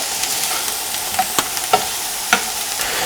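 Minced garlic and onions fry in a pan with a steady, bright sizzle, punctuated by a few light scraping taps of stirring, close and without any talking.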